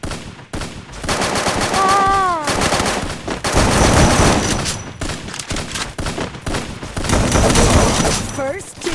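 Shotgun gunfire in the Free Fire video game, loud repeated blasts in dense bursts across the whole stretch, mixed with other game effects and short rising tones.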